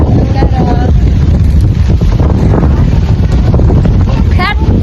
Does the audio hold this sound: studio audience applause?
no